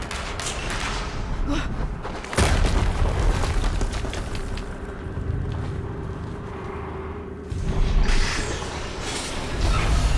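Explosions in the video game Horizon Zero Dawn: heavy booming blasts, one sharp detonation partway through and another later, over rumbling, creaking mechanical game noise with no talking.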